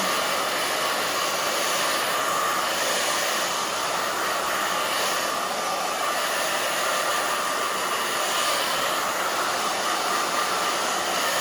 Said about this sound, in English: Okay, so now to blow dry.